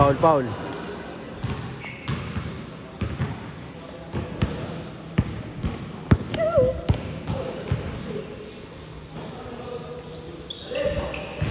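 A basketball bounces repeatedly on a court during a local game, sharp rhythmic thuds at a steady pace, mixed with excited play-by-play commentary, crowd noise and occasional whistles and sneaker squeaks.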